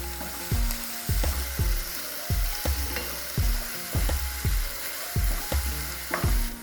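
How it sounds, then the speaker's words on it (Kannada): Onions with salt sizzle in a pan for an egg keema masala, with a steady frying hiss broken by about a dozen regular scraping stirs of a spoon against the pan, close up. "ಉಪ್ಪು ಹಾಕಿದ್ರೆ ಉಳ್ಳಾಗಡ್ಡಿ ಜಲ್ದಿ ಕರಿತಾವೆ"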